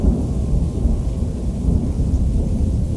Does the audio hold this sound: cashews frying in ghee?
no